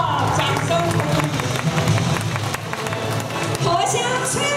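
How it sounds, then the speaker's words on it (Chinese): A crowd applauds and cheers at the opening of a Taiwanese glove puppetry show honoring master Huang Junxiong. The clapping is a steady, dense wash throughout, mixed with an announcer's voice and lively background sound. "掌声鼓励！"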